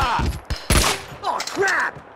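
Several sharp gunshot bursts in Max Payne 2 ring out close and loud over a couple of seconds, mixed with swooping game effects.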